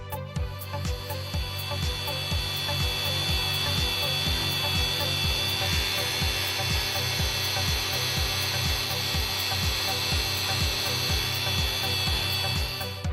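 A Blendex disc spins at 5,000 RPM, smoothing and brushing a flat metal surface with a steady, loud grinding whine and a rapid rhythmic rattling pulse, continuous throughout and close.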